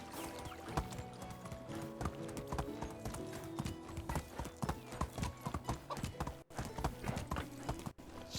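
Horse hooves clop steadily at a walking pace in the medieval village game Medieval Dynasty, close and continuous, with faint talk in the background.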